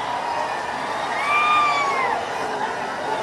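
A Maratha crowd cheers at a welcome rally for Manoj Jarange Patil in Hingoli, a steady outdoor din of voices and shouting with shrill whistles rising above it midway.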